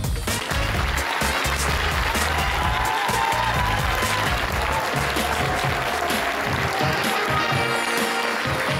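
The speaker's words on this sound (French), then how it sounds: "Alors je pense qu'on peut tous les applaudir très fort." Loud, sustained applause from a large audience fills the whole stretch, steady and dense with no pauses.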